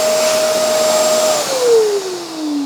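A Shark MessMaster VS101 portable wet/dry vacuum runs with a steady high whine and airy rush, its motor pitch holding level, then sliding noticeably lower partway through as the load changes, loud and close with no talk.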